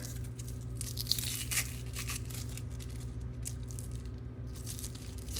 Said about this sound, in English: you're gonna peel this outer layer